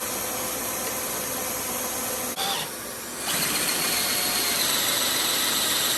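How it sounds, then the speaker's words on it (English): A power drill whirs steadily, boring out a stuck front grille screw on a 2003-2008 Toyota Corolla, loud and continuous with a brief dip in pitch midway before it resumes. "we finally got this thing drilled out"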